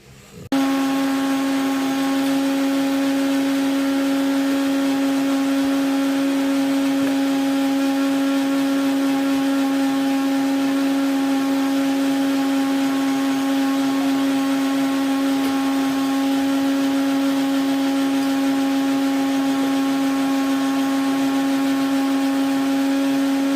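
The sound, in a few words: mixer grinder blending raw mango panha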